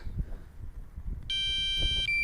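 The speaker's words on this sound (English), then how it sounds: "battery warning" A DJI Mavic Pro drone gives its low-battery warning, a loud, sharp electronic tone that starts abruptly partway through and holds for under a second before dropping to a lower tone, heard over faint outdoor rumble.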